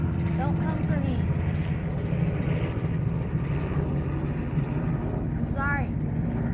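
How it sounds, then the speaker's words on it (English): A helicopter flying overhead gives a steady, loud engine drone that fills the whole stretch while people talk over it. "Oh, helicopter."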